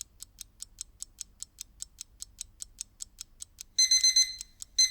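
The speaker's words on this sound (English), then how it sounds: "there are only so many times you can hit that snooze button." Alarm clock ringing before the snooze button is hit: quiet, evenly spaced ticking beeps repeat for several seconds, then give way to louder, denser bursts of ringing near the end.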